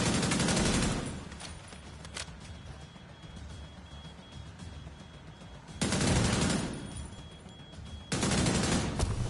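Bursts of automatic fire from the Bighorn rifle in The Division 2, three loud sustained volleys separated by quieter gaps with scattered distant shots and ambient game noise.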